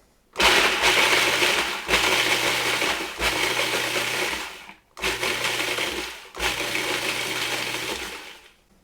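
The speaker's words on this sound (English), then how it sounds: "What I want to do is I want to process this just enough to break it up into crumbs" Food processor pulsing a no-bake cheesecake base into fine crumbs, four loud whirring bursts of a few seconds each separated by brief pauses, with a gritty rattle of the crumbs, no talking.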